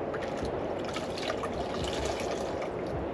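The last of the water is poured out of a container during morning dishes, a soft, steady trickle and splash heard up close with no talking.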